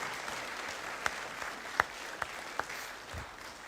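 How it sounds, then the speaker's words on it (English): An audience at a kapa haka festival in the southern region applauds, a dense, distant wash of many hands with a few sharper individual claps poking through, quiet overall and with no talking. "big round of applause for Kay and for Graham"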